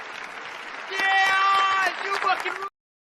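A crowd claps steadily, with cheering and shouting voices rising over the applause before it abruptly stops.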